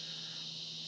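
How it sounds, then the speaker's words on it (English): Cicadas in a huge tree outside in the evening, a steady high droning buzz that holds unbroken, moderately loud and alone, with a faint low hum underneath. "We have a huge tree outside full of cicadas."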